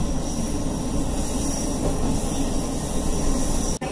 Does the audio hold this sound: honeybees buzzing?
no